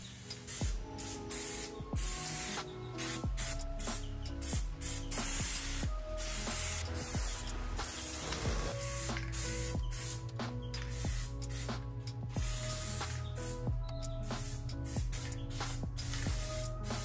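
A paint sprayer hisses in repeated bursts while spraying furniture, starting and stopping, over a steady background hum of machinery.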